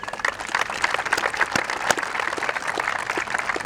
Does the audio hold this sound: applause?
yes